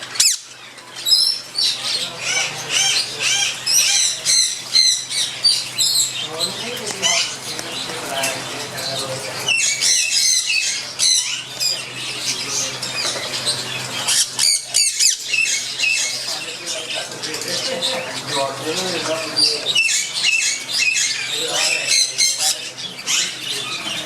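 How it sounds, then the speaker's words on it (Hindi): Sun conure parrots in a breeder setup squawk and screech loudly and almost continuously, with shrill overlapping calls from several birds nearby, a busy aviary chorus with brief pauses. "ये सन कनौर,"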